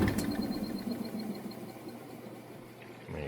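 Maytag washer drum spinning at high speed during a spin cycle, a steady whirring mechanical hum with a faint rhythmic hiss that eases slightly toward the end, close by with no talk.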